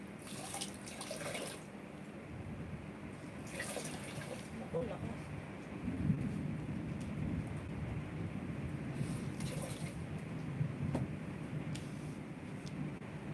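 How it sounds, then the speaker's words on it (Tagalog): Steady heavy rain hiss fills the background, with a few brief voices and clatters rising above it now and then. "Grabe, lakas ng ulan."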